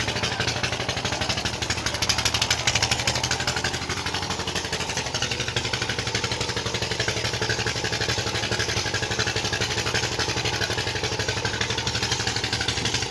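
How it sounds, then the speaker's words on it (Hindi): A tractor engine idles steadily in a village setting, a continuous low, throbbing rumble holding at an even level throughout with no talk over it. "आज ट्रैक्टर का मोबाइल चेंज हो रहा है"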